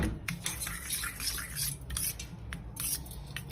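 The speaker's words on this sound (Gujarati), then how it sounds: "એકદમ દહીંને આપણે મિક્સ કરી દઈશું સરસ" A spoon stirs curd and sugar in a bowl with quick repeated scraping and clinking strokes, close and fairly quiet, in an uneven rhythm, with no talk.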